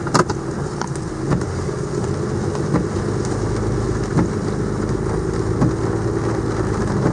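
Heavy pouring rain drums steadily on a surface while a Ram pickup truck's engine idles nearby, a continuous low rumble under the dense patter, with occasional sharper drops and no talk.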